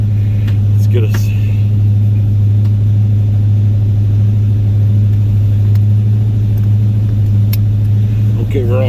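A 1976 Oldsmobile Cutlass Salon with a 455 V8 drives along, its engine giving a loud, steady low rumble throughout, with a few faint interior clicks over it.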